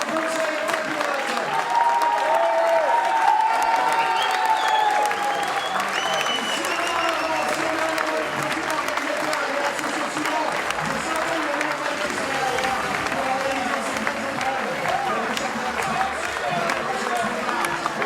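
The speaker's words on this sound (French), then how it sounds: "on peut se lever pour applaudir les organisateurs du championnat de France d'autocross" A crowd at the French autocross championship ceremony applauds the organisers, with sustained, dense clapping that holds steady at a moderate level throughout, with faint voices and cheering mixed in.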